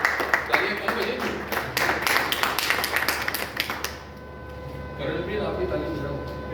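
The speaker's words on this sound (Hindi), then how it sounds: "Great, give a big hand to Kamal, Vikas and Ashish." Audience applause for Kamal, Vikas and Ashish at a Rotary leadership training session, a few seconds of scattered clapping that fades out, followed by quieter room noise.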